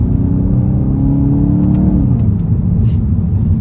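A 2022 VW GTI with a DSG gearbox pulls hard in second gear, its engine note rising in a steady loud drone with interior whir, then a quick upshift near the end.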